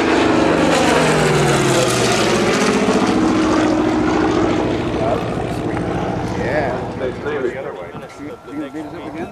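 A Corsair warbird propeller plane with a Packard-built engine flies past at an airshow over a beach, a loud, throaty engine roar that sweeps downward in pitch as it passes and fades, with talk underneath.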